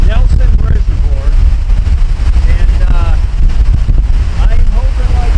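Strong wind gusting at Nelson Reservoir, a lake, a loud constant roar buffeting the microphone with churning water beneath, while someone talks through it.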